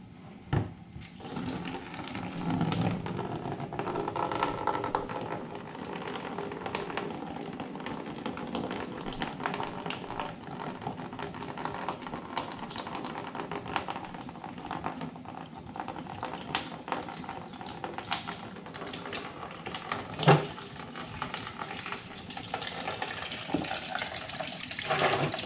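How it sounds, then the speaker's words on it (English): Coolant water drains from a Suzuki SV650 motorcycle engine into a catch pan, a continuous close splashing rush that holds steady for the whole stretch with no talking. "The water's going to shoot out pretty good, so make sure you have the pan a little higher up to catch it all"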